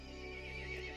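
A horse in the video game Resident Evil Village gives a loud, close whinny lasting about a second, with no talk over it.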